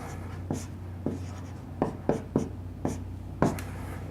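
A pen or marker writes out a ratio on a board or page, giving about eight short scratchy strokes in irregular rhythm, close and fairly quiet with no talk.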